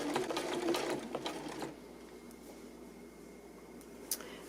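A sewing machine stitching the corner of a flanged quilt binding, a close motor whir for about a second and a half, then a quiet pause with a small click.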